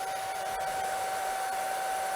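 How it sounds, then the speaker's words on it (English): A hair dryer blows steadily up close over a painting, a constant whooshing roar with a fixed motor whine that holds level throughout. "I will take my hair dryer, just like this, and I'll turn it on"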